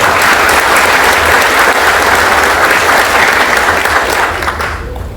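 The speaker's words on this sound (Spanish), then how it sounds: "Un fuerte aplauso para Raúl Alba" Loud, dense audience applause for a speaker at a Spanish-language presentation, steady throughout and thinning slightly at the very end.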